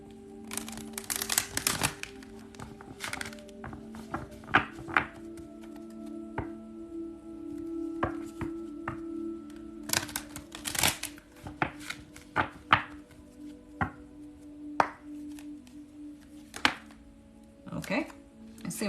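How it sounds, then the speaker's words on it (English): A deck of oracle cards is shuffled by hand like tarot, giving irregular papery riffles, slaps and taps, fairly close, with a faint steady hum in the background. "These ones you have to shuffle like tarot."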